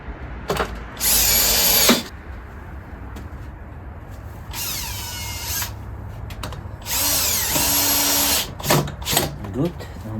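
A power drill drives screws to mount a Groz woodworking vise on a workbench in three loud, close bursts of whirring, with clicks and someone speaking between them.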